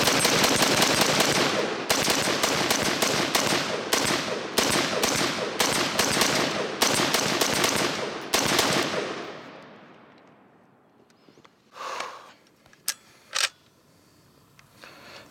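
HM Defense CommanderMB5 rifle loaded from an Elander 40-round magazine fires a loud, close burst of rapid shots for about eight seconds, then stops abruptly. A couple of faint clicks and rattles from the stalled action follow.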